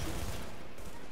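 Gunfire in Tom Clancy's The Division, a dense burst of shots at the start settling into steady noisy combat, loud and close.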